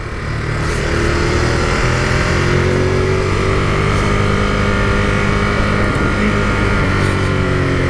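A 2018 Ducati Monster 821 engine drones steadily while being ridden around roundabouts, with loud continuous engine rumble and wind noise close to the rider and no pauses or talking.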